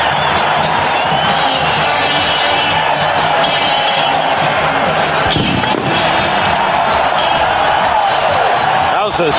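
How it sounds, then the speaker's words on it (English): A packed football stadium crowd roars after a New England Patriots score against the New Orleans Saints in a 2001 game, a loud, continuous wall of cheering under a broadcast commentator's voice. "That was some play, and it got the crowd going."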